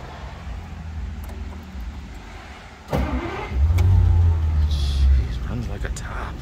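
A 1948 Packard Super Eight Victoria convertible's straight-eight engine idles steadily with a low rumble, swelling louder and deeper partway through as it revs slightly, with a voice briefly audible over it.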